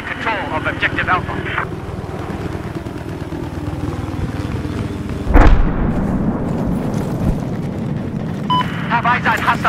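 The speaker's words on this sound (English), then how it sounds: "Have eyes on hostile chopper." A helicopter flies through a Battlefield 4 video game battle, its rotor roar a loud, continuous rumble. A sharp blast hits midway, with people talking throughout.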